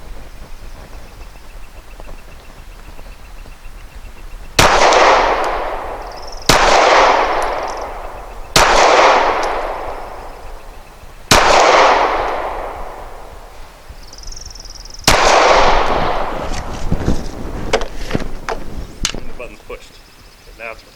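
A custom Glock 34 pistol fires Hexagon 124 grain rounds outdoors, with five loud, separate shots spaced a couple of seconds apart, each ringing out briefly, followed by some clatter.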